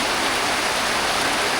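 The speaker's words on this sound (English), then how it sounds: "It has rained since yesterday, no stopping." Steady, heavy rain falling on a village, a dense continuous hiss of drops with no pauses and no voices.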